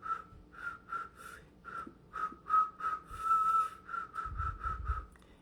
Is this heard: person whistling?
yes